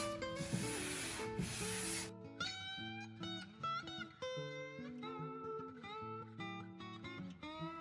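Abrasive sanding of an old polyurethane finish on a piece of furniture: a steady, harsh scratchy hiss for about two seconds under background music, after which only the music continues.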